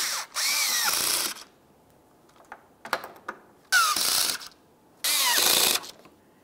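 A power tool drives radiator mounting bolts snug on a 2011-2018 Volkswagen Jetta, with three loud close bursts of whirring and ratcheting separated by quiet gaps and a few small clicks.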